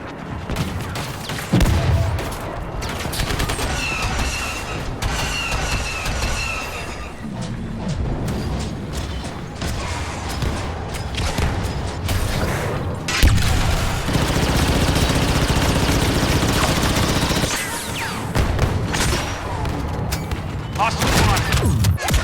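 Dense blaster gunfire and battle noise from Star Wars Battlefront II on Yavin, loud and continuous with rapid bursts and booms throughout, mixed with voice chatter.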